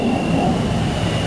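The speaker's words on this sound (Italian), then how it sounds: "Quindi è passato un jet, in questo momento sta passando" Jet aircraft passing overhead, a steady broadband roar with a faint high whine that holds level throughout, heard outdoors with no talk.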